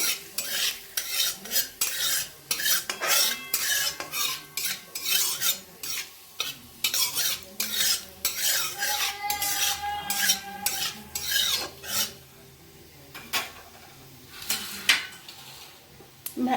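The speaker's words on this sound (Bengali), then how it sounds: "গোটা জিরে তেজপাতা শুকনো লঙ্কা আমি দিয়ে দিলাম ভালো করে আমি এগুলো ভেজে নেবো" Whole cumin, bay leaves and dried chillies fry in oil in a wok, heard as busy, rhythmic scraping and clinking of a spatula against the pan with a light sizzle underneath, close and continuous.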